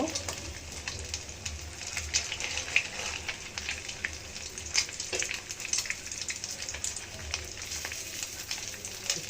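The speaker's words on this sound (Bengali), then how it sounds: "মাছটা আমার ভাজা হয়ে গেছে, এখন আমি উঠিয়ে নিব।" Lote (Bombay duck) fish frying in oil, a soft crackling sizzle with scattered sharper pops throughout, fairly quiet and close, with no talk over it.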